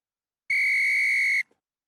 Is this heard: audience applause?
no